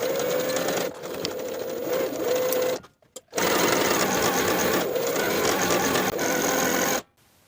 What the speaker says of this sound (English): Sew as pinned with a 1/2 inch seam allowance and your narrow zigzag stitch